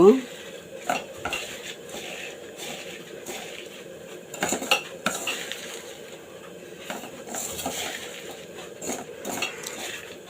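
Puti fish being mixed by hand with onion and green chilli in a bowl, giving soft wet squelching and stirring sounds with occasional clinks of a dish, steady and close throughout.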